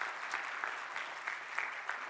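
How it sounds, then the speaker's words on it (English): A church congregation claps during a morning service, a steady wash of soft applause with faint crackling peaks throughout. "Give him a great big round of applause and say thank you, Brother Chester."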